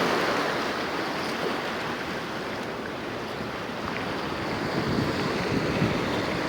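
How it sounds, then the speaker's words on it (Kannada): Sea waves wash steadily onto the shore of an island bay, a broad continuous surf roar with wind buffeting the microphone, no voices. "ಯಾವಾಗ ನೋಡಿದ್ರು ಸಮುದ್ರದ ಹತ್ರನೇ ಇರ್ತೀಯ"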